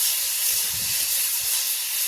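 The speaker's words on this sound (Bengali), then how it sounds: "এদিকে দেখো কড়াইতে জিরেতে আলুটা ভেজে নিচ্ছি" Loud, steady hissing sizzle of potatoes frying with cumin in hot oil in a wok, close up and continuous, with no voices.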